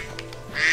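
A duck in the video game Bayonetta gives a short, fairly loud quack near the end of a brief stretch of game sound.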